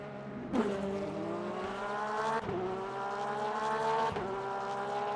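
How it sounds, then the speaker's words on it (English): Porsche flat-six race car in the Le Mans Ultimate racing game, its engine revving hard with rising harmonic whine and sharp gear-change dips, loud and continuous throughout. "Flat 6 sound."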